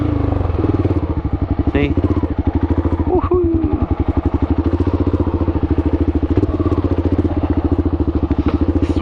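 A Kawasaki KLR650 dual-sport motorcycle labors up a small hill, its single-cylinder engine thumping in a steady, close, loud pulse with clattering and wind buffeting, while a rider briefly speaks over it.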